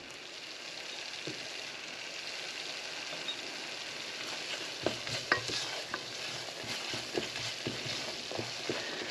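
Flour roux cooking in a pan with fresh thyme and bay leaf for sardine fish pies, giving a steady close sizzle with scattered stirring scrapes and clicks, no talking.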